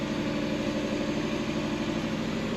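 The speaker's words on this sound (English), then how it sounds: "It's idling? Yeah, that's the craziest part. It's actually idling." An old Lexus engine idles steadily after its first start in ten years, giving a continuous low rumble with a faint rhythmic pulse. It sounds moderately close, with no talking over it.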